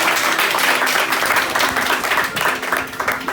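Steady crowd applause fills the whole stretch, a dense wash of many hands clapping at even loudness with no pauses.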